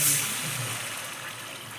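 Water poured into onion masala in a pan for poori masala, a brief close rushing splash that trails into a soft wash, no voices.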